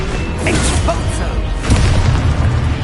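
An Expulso spell detonates in Hogwarts Legacy combat with a heavy booming blast and mechanical crunching. A second, louder surge of low rumble rolls in midway, and a voice is mixed in.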